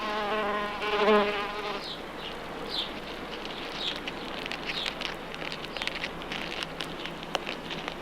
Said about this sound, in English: Here's a bee flying round one of my Frau Karl Druski roses and setting to work with its jaws